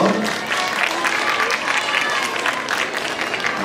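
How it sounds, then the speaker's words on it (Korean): Steady applause from an audience at a children's recital of traditional games, continuous clapping with crowd murmur filling the space throughout. "박수 보내주시고요"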